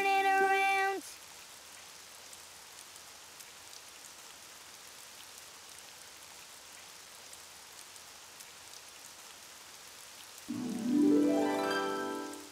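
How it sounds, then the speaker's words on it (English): Steady rain patters on a surface in a Daniel Tiger's Neighborhood children's video game, with brief chiming tones at the start and a louder tonal swell near the end. "Oh, it's raining outside."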